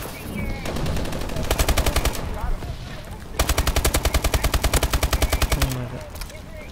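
An MP11 submachine gun fires in Call of Duty: Advanced Warfare in two rapid, loud bursts of automatic fire, the second burst longer. Game sounds fill the gaps between bursts.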